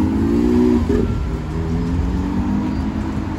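A green Ferrari LaFerrari engine idles and rumbles steadily nearby on a Paris street, then pulls away with a low, even drone that barely changes.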